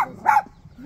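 A small dog gives one short, sharp bark close by, followed by a faint trailing whine, with no talk over it.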